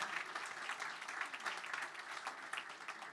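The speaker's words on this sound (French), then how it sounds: "que vous pouvez applaudir aussi extrêmement chaleureusement" Warm audience applause during a public interview event, dense and continuous clapping from a crowd, fairly faint and steady throughout.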